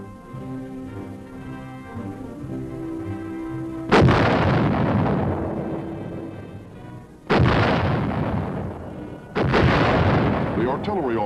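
Heavy artillery guns fire during US Army training, three big booms with long rolling echoes, the first around four seconds in, then two more, over a low rumbling background.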